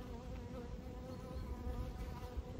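A swarm of Carnica honey bees buzzes steadily and close in a dense, continuous drone.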